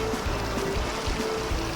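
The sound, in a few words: raft travelling on the Ogan River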